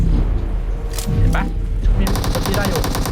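Gunfire in the mobile shooter PUBG Mobile: scattered shots under people talking, then a rapid, loud burst of automatic fire with evenly spaced cracks.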